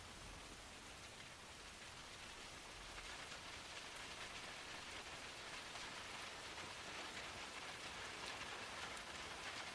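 Steady rain ambience, a soft continuous hiss of drops falling on surfaces, quiet and even, growing slightly fuller toward the end with no voices.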